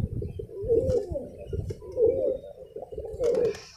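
Domestic pigeons in a loft coo repeatedly, close by, in low throaty rolling calls about once a second, with faint rustling and flapping around them.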